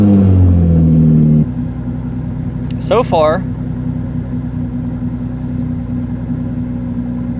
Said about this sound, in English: You guys probably can't hear me at all with this damn engine going